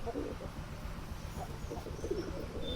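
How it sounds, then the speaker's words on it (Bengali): A pigeon coos softly in low, repeated murmurs outdoors near a house, with background noise and a faint voice mixed in. "এই কবুতরটা খুব সুন্দরভাবে ডাক দিয়ে দেখেন"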